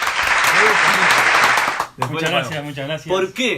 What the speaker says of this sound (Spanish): Para el quien pedimos un aplauso